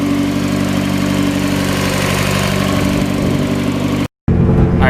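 A Mazda Miata engine fitted with a rebuilt Greddy turbo runs close and loud at a steady idle, with a rough, throbbing low hum, a momentary cut to silence, then the engine sound returning.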